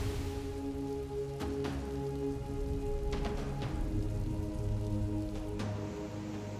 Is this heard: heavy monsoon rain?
yes